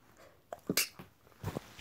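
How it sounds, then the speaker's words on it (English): A single short sneeze with a sharp burst of breath, preceded by a quick sniffle, close and fairly quiet. "Okay, I sneezed."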